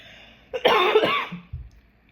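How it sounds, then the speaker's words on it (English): A person coughs and clears their throat, a harsh burst followed by a few rough throat sounds, close and loud. "If I can stop coughing"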